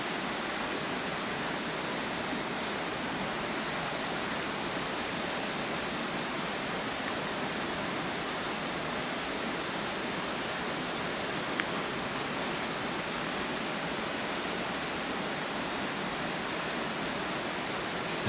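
Deafening waterfall spray in the Chartreuse mountains, a dense, unbroken roar of falling water that stays loud and close for the whole stretch, with no talking.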